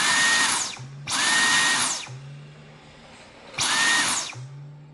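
A Dyson V10 cordless vacuum cleaner at its max setting: a loud, high whining airflow roar in three bursts, switching on and off with a low hum and quieter pauses between, close and alone.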